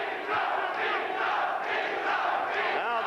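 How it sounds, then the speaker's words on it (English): A boxing crowd of British fans chanting Minter, a loud, dense roar of many voices shouting together in rising and falling waves that carry right through the moment. "Crowd is waving British flags, the British fans here, and shouting Minter, Minter."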